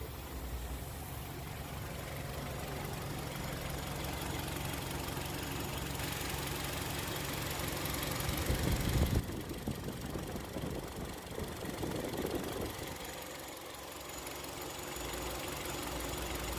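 A Kia K5 engine idles steadily after an AC compressor replacement and refrigerant recharge, giving a continuous mechanical hum with a faint knocking texture and a brief swell near the middle.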